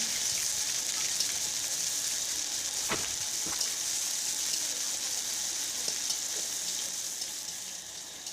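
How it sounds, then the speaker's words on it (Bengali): Chopped onion with panch phoron and green chili fries in oil, a dense, even sizzle running throughout with a couple of faint clinks from a utensil, close and without talk. "পাঁচ ফোড়ন দিয়ে দিলাম লঙ্কা দিয়ে দিলাম তারপর পেঁয়াজ কুচি দিয়ে দিলাম"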